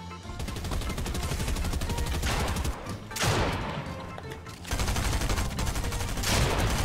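Rapid, continuous gunfire from the video game Fortnite, dense bursts and volleys running almost the whole time, loud and close, with brief lulls between bursts and no talk over it.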